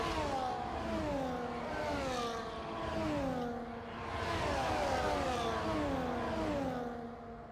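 Formation-lap race cars from the F1 24 game at Austin's COTA circuit drone past with whining engines rising and falling in pitch, several cars overlapping in a continuous, moderately loud buzz.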